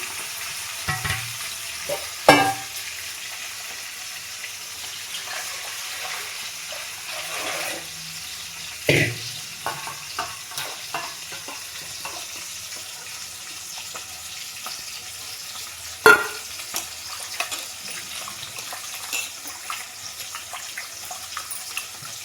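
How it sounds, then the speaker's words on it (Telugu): Onion and tomato fry in a pan for a mutton curry, a soft steady sizzle running throughout with a few sharp clinks of a utensil against the pan and faint watery sounds, no voices. "ఉల్లిగడ్డ టమాటా అయితే మంచి కలర్ వచ్చినంత వరకు బాగా ఫ్రై చేసుకోవాలి."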